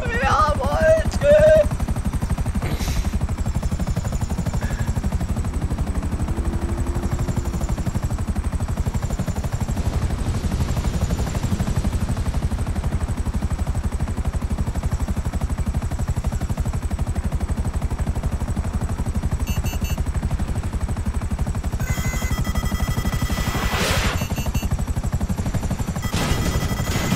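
Helicopter rotor in GTA Online, a loud continuous thrum and whine filling the whole stretch, with bursts of gunfire cracking near the start and toward the end.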